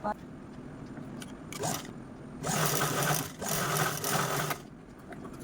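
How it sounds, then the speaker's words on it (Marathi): A sewing machine stitches blouse fabric in two short close runs of steady whirring, set between quieter stretches of room noise and faint handling. "सर्वात अगोदर आपण हा जो पॉईंट काढलेला आहे इथे हा स्टिच करून घेऊ"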